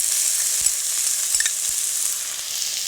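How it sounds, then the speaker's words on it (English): Finely minced yellow onion sizzling in extra virgin olive oil in a pot, a steady bright hiss with a few faint taps of a spoon, no voices. "So we have a little extra virgin olive oil in my pot, some very finely minced yellow onion."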